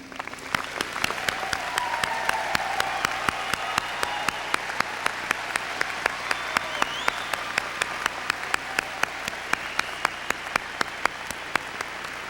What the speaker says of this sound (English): let's join me in applauding them for their wonderful accomplishment as outstanding graduates